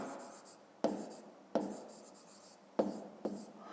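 A pen writes out a fifth-grade math exercise solution on paper: quiet, close scratching with a few sharp strokes and taps spaced about a second apart, and no talking.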